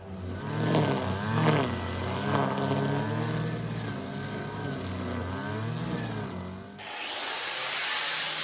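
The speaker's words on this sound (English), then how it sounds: "Might be able to hear Paul strimming outside." A string trimmer running outside a farmhouse in Portugal, heard as a steady droning engine with a wavering pitch that rises and falls, fairly strong and continuous, with a broadband rushing patch near the end.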